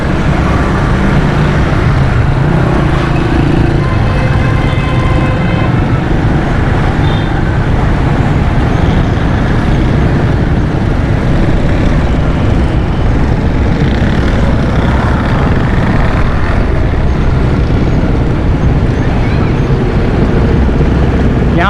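Heavy road traffic jammed with big People's Bus Service buses on a busy street near Liaqatabad Teen Hatti and Jamshed Road, a dense, steady rumble of engines and street noise that continues unbroken throughout.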